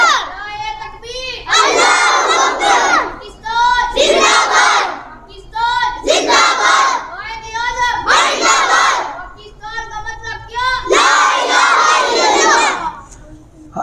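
A large crowd chants a religious slogan in unison at a Black Day memorial prayer gathering for the APS school tragedy. Loud, close, rhythmic bursts of many voices repeat in waves with short pauses between them.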